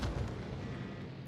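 A deep, rumbling explosion booms from torpedo hits on an enemy ship in World of Warships, a heavy low-end blast fading out over about a second, fairly loud and alone.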